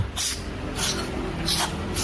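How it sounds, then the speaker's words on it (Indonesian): Carburetor cleaner sprayed onto the throttle body of a Daihatsu Taruna EFI in three short, close hissing bursts separated by brief pauses. "Kemudian kita semprotkan ke bagian yang dirasa kotor"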